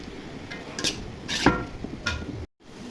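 Chopped radish being stirred and fried in a pan for a mixed vegetable dish, with a few close scrapes and clinks of a spatula over a soft sizzle, then a short break.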